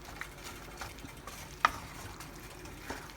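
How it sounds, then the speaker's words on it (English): Ground pork sizzles softly in a pan while being stirred, with quiet scraping strokes and one sharper clink of the utensil against the pan, all fairly faint and close. "So I like to keep stirring so it come out nice and good."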